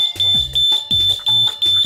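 Ajax alarm system siren during a volume test, sounding loud, rapid repeating beeps in a steady pulsing pattern, about six short bursts in under two seconds.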